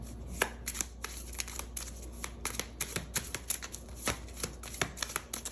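A small deck of hypothetical-question cards is shuffled by hand, giving quiet, crisp riffles and flicks in an irregular run of short bursts, close and alone.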